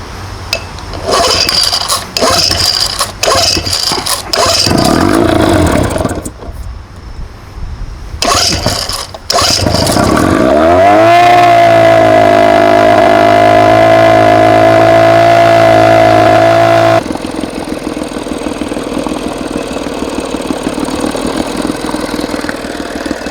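A 1980 Evinrude 4.5hp two-stroke outboard motor sputters through rough start attempts, then catches and runs loud and steady at a high buzzing idle before the pitch drops to a lower, rougher note.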